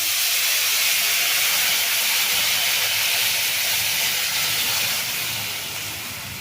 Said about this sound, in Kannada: ಈಗ ಹುಣ್ಸೆಹಣ್ಣು ಹುಳಿ ಹಾಕ್ಕೊಳ್ತೀನಿ